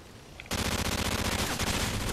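Rapid-fire gunshots from a weapon in Call of Duty: Modern Warfare 3, a sudden, loud, dense burst of automatic fire that continues without pause after a quiet opening.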